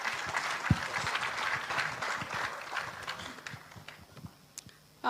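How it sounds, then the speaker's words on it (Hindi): An audience claps for Sunita at an Amway business talk, a steady dense patter of hands that thins toward the end. "एक जोरदार ताली सुनीता के लिए।"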